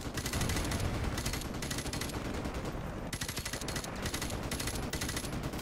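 Dense rapid automatic gunfire from an AK-47 in Call of Duty: Modern Warfare Remastered, loud bursts rattling continuously with barely a pause, close and dominant throughout.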